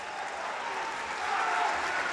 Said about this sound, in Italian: Gli applausi del Pala Tedeschi